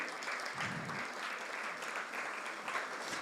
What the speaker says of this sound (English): please keep on clapping until he reaches the podium